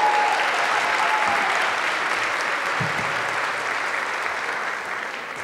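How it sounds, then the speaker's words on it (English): An awards-ceremony audience applauds steadily and loudly throughout, a dense wash of clapping that fades slightly toward the end. "So let's give them another round of applause."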